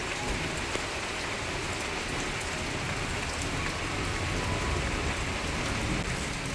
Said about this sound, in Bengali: বাইরের বৃষ্টিটা কিছুক্ষণ উপভোগ করতে থাকি